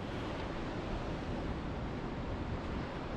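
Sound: choppy ocean waves

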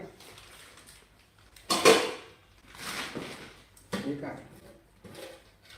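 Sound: pots, pans and lids being handled from a utensil set

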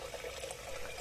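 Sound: water poured onto lentils in a pot

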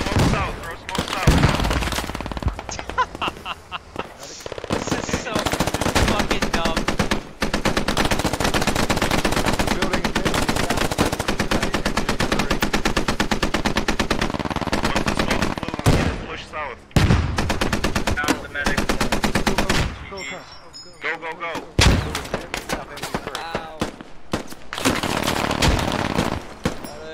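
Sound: machine gun fire in video game Squad

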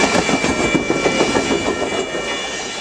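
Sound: train horn blowing at a crossing in San Clemente

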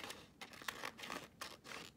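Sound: cutting craft paper

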